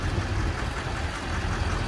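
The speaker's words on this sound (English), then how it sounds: "Here's a 2015 Duramax." A 2015 Duramax diesel in a 3500 pickup with 54,000 miles idles with a steady low rumble, heard close for a short stretch with a broad wash of noise over it.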